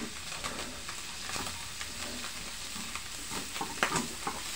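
Garlic sizzles in a pan beside crab, a steady close frying hiss punctuated by scattered crackles and occasional stirring scrapes.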